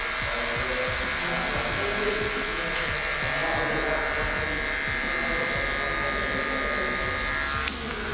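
Electric hair clippers hum steadily during a mid fade haircut at close range, a continuous buzzing whine with faint shifts as the blade moves, under quiet talking.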